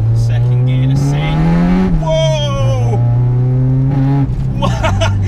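A naturally aspirated 235 bhp Honda Civic EK4 with a B16B engine and solid engine and gearbox mounts pulls hard through the gears. The loud in-car engine note climbs steadily, drops at each short shift, then climbs again.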